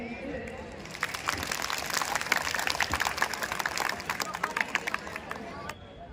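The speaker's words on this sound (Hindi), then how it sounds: "मैं अब जिस हस्ती को बुलाने जा रहा हूं उनका पहले तो तालियों से बेहतरीन इस्तकबाल करेंगे।" A school audience at a Republic Day function at an inter college in India gives a warm round of applause to welcome a guest, dense clapping mixed with crowd murmur, building after the first second and ending abruptly near the close.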